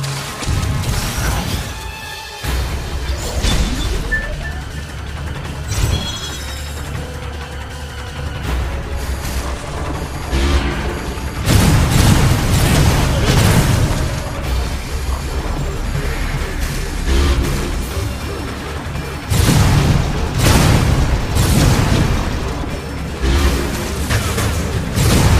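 Missiles firing and exploding during a Metroid Other M battle: loud repeated crashing booms and thuds over a dense, busy game soundtrack, with bursts of heavier impacts through the middle and late stretches.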